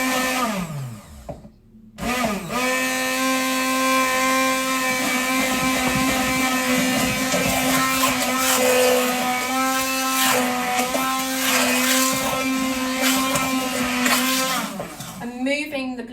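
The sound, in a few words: blender whipping aquafaba into vegan meringue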